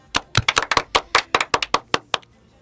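About fifteen sharp, separate hand claps ring out close by at a French-language political campaign rally for the presidential candidate, irregularly spaced and then stopping, with quiet after.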